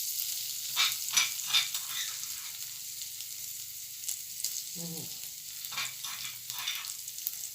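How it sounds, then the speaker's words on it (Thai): Chili and garlic stir-fried in a pan over low heat: a steady soft sizzle with intermittent scraping strokes of a utensil, close and continuous, without speech. "พริกกระเทียมใส่ลงไป ผัด"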